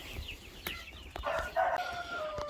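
Chickens cluck and a rooster crows close by, a busy mix of fowl calls with no talking.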